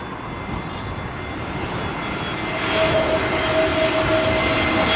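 Aircraft arriving on runway 27L at London Heathrow, a steady broad engine roar that swells as the plane draws nearer, with a thin whine riding over it, continuous and without voices.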